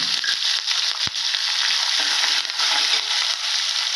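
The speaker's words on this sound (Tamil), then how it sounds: "கடுகு வெடிக்குது உளுத்தவரை போட்டுக்கலாம்" Steady crackling sizzle of mustard seeds popping and spattering in hot oil, dense and continuous, with a sharp clink partway through.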